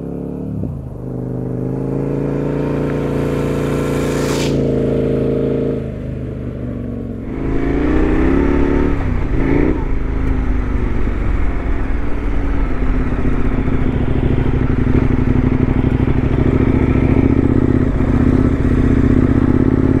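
A KTM 1090 Adventure R motorcycle idles, then revs and pulls away down a desert dirt trail, its engine loud and close with gravelly clatter under the steady drone.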